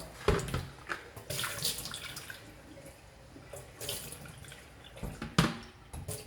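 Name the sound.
apple cucumber juice being poured into a big pan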